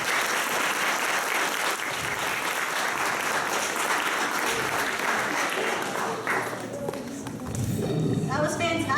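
Loud, sustained audience applause fills a poetry slam hall after a performance, steady dense clapping throughout, with voices and cheers rising near the end.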